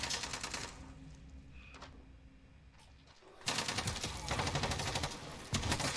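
Rapid automatic gunfire from a shooter video game comes in two dense bursts, a brief stretch first and then a longer, louder rattle with short gaps, played back with no talk.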